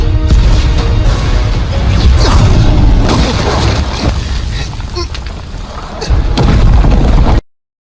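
Rocks burst and crash apart from a powerful attack in the Wu Dong Qian Kun animation, a dense run of loud booms and impacts with a heavier blast surge near the end.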